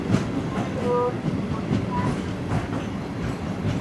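A MEMU passenger train on the Vijayawada to Bhadrachalam Road line runs on rails near Kondapalli with a loud, steady rumble, rhythmic wheel clatter and brief tonal squeals.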